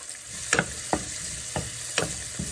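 Onions with salt fry in a pan for a mutton curry, a steady sizzle running underneath while a utensil scrapes and stirs in four or five distinct strokes, close and moderately loud.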